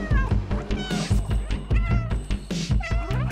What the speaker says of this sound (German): Wir können mit B auch miauen.